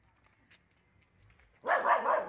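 After a quiet stretch with faint background noise, a dog lets out a sudden loud bark or yelp close by.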